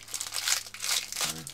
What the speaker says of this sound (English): The smaller ones are definitely far harder to unwrap.